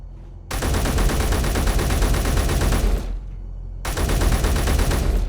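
Sustained automatic gunfire from turrets in the space game Space Engineers comes in two long, loud, dense bursts separated by a short pause.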